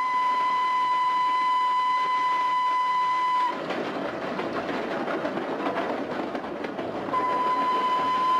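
A historic passenger train on the Potenza-Metaponto line in Lucania, a steady rolling rumble of carriages with a sustained high whistle tone at the start and end, continuous and fairly loud throughout.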